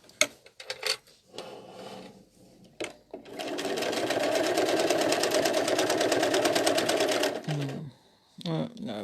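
A sewing machine doing free motion quilting runs in a steady, close, fast-stitching whir for several seconds, framed by short bursts and clicks before and after, with someone talking around it.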